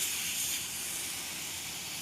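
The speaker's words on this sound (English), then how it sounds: "So this is gonna be the first sizzle." A steady, loud high-pitched hiss fills the clip as meat sears on a hot skillet, with no talking.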